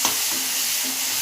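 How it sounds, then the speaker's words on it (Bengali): Ground spices sizzle in hot oil in a pan as they are stirred, a steady close hiss with faint scraping of the spoon. "একটু নেড়ে দেই।"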